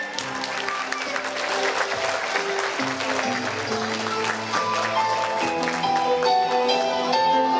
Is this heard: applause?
yes